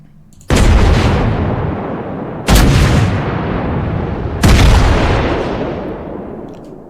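Main battery guns of the USS Iowa battleship firing in the mobile naval game World of Warships Blitz: three loud, close booming salvos spaced about two seconds apart, each leaving a long rumbling tail, with no talk.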